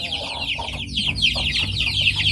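Hens clucking close by at their egg-laying nests in a coop, a steady run of soft, overlapping clucks and murmurs with no talking.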